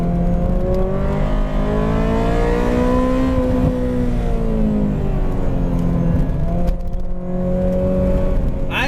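A 23-year-old Ferrari F355 engine is driven hard on an empty racetrack, its loud, continuous note sweeping up and down in pitch as the revs rise and fall through the gears, close and steady throughout.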